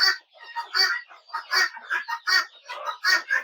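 Chickens on a poultry farm shed clucking close up in a quick, steady series of bright, choppy calls with brief gaps between them.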